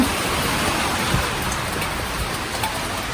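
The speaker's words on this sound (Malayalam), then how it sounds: "നല്ല മഴയാണ്." A downpour falls on a home whose roof is leaking, a steady, even hiss of dense rain close at hand with scattered heavier drops and splashes, no voices.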